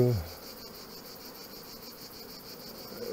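Bees buzz around a beehive in a steady, dense drone that holds at an even level throughout, close and continuous, with no voices.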